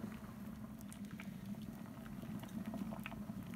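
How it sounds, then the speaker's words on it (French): Beer wort boils steadily in a brewing pot during brewing with Irish moss, a faint, even bubbling and patter with tiny pops throughout, no voices. "Il reste 2 minutes d'ébullition."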